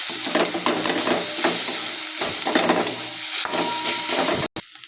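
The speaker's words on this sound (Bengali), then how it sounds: "এই যে ভালো করে নাড়াচাড়া দিই" Food sizzles and hisses in a hot pan while being stirred, with scraping strokes of a spatula recurring in a steady rhythm close by, then a brief cut near the end.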